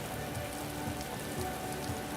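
Heavy rain falls outdoors, a dense constant hiss of drops on surfaces, steady and fairly soft with no talk over it.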